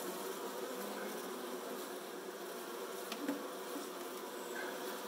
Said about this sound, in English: Those bees will find their way out